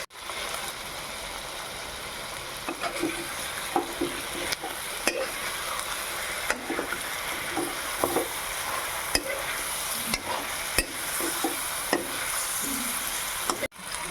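Broiler chicken frying in a pan with garlic and ginger paste, a steady loud sizzle running throughout, broken by repeated scraping clicks of a spoon stirring the meat, with no talking.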